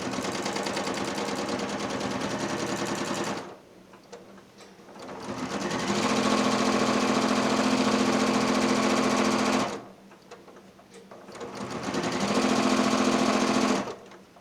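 A sewing machine stitches free-motion quilting in a spiderweb pattern, running in long loud continuous bursts with two short pauses between them, close by and with no talking.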